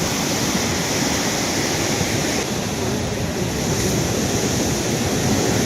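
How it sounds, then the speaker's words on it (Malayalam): Heavy surf from rough seas pounding the coast at Pallithura, Thiruvananthapuram, during severe sea erosion, a dense continuous roar of breaking waves and wash, loud and steady throughout with no voices. "കനത്ത കടൽക്ഷോഭമാണ് ഈ മേഖലയിലുള്ളത്"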